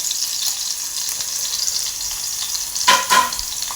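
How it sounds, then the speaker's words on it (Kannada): Food fries in a pan with a handful of curry leaves, a steady close sizzle with bright crackle throughout, broken near the end by a couple of louder spattering bursts as the leaves go in or the pan is stirred. "ಜಸ್ಟ್ ಫ್ರೈ ಆಗಲಿ."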